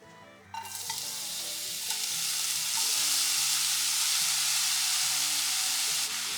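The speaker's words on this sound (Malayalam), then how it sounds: "ഇതിലേക്ക് നമുക്ക് ഗ്രേറ്റ് ചെയ്ത് വെച്ച ക്യാരറ്റ് ഇട്ട് കൊടുക്കാം" Grated carrot dropped into hot ghee in a pan, a sudden loud burst of sizzling that settles into a strong, steady hiss, close up, with background music underneath and no talking.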